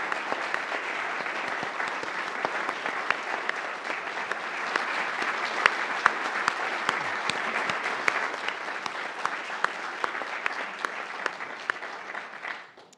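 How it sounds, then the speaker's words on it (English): An audience at a talk and book-signing event claps in sustained applause, a dense steady patter of many hands that carries on for several seconds before fading out at the end. "can we give another round of applause?"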